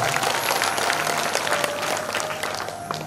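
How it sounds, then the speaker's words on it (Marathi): An audience at a Bhagavat discourse during a Navratri festival claps steadily, a dense, loud burst of applause from many hands lasting a few seconds. "त्यांच्याकरता पंक्तीदारांकरता टाळ्या वाजवायच्या"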